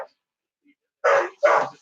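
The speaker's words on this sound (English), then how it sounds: "Dog's barking at something outside." A dog barks twice outdoors at a rabbit, two short, loud, rough barks in quick succession after a brief quiet stretch, with no talk over them.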